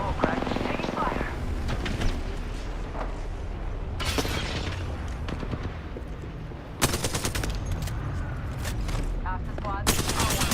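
Rapid automatic gunfire bursts and explosions in the video game Apex Legends, with repeated loud volleys and short pauses between them, under in-game character voice lines.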